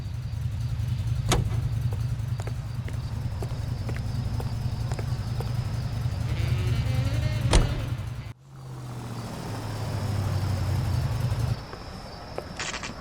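A car driven in LA Noire, its steady low engine drone running near and constant under rhythmic clip-clop hoofbeats and a couple of sharp knocks, then cutting out abruptly before idling back in more quietly.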